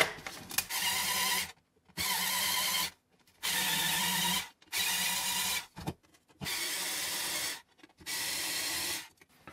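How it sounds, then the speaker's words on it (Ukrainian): A drill bit chews into wood during work on a medieval bascinet helmet build, running in about six steady bursts of a second or so, separated by short silent pauses, fairly close with no talking. "Просто свердло реально гризе"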